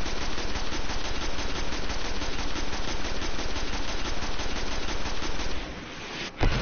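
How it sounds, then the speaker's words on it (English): Rapid, sustained automatic gunfire from a Destiny strike on PS4, a loud continuous burst of shots that runs for several seconds before briefly cutting out, followed by one last sharp blast. "he's still shooting at me"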